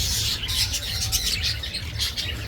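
Barbary doves and finches in an aviary give busy, overlapping chirps and tweets close by, with soft cooing and a brief flutter under the chatter.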